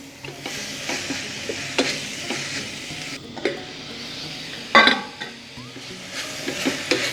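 Carrots for Tamil-style carrot sambal frying in a pan, with a soft continuous sizzle and repeated scraping strokes of a spoon stirring against the metal, plus one sharper clatter partway through.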